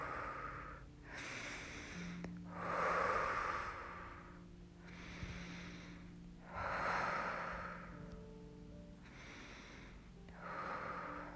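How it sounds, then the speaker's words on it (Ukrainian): Slow, deliberate breaths during a morning yoga practice, each one a soft, airy rush that swells and fades in a steady rhythm of about five cycles, close to the microphone with no talking. "дихаємо і зводимо ззаді руки в замок, ще більше відкриваємо грудну клітку. Дихаємо."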